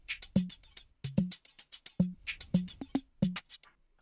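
A pre-made drum top loop for an Afro-style remix plays crisp, bright percussive hits in a tight syncopated pattern, with short pitched thumps woven between them, repeating close and alone.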